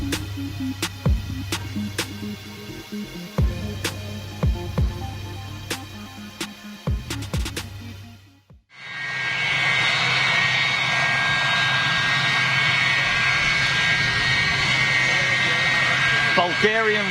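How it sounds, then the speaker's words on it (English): A McDonnell Douglas MD-82 jet takes off from runway 23 left at Manchester Airport, rising to a loud, steady engine roar after a stretch of intermittent clicks and quieter background sound. "This is an MD82 going out of runway 23 left at Manchester"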